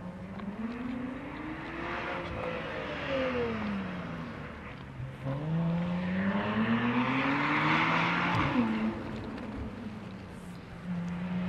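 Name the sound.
car engine echoing in the Alps mountains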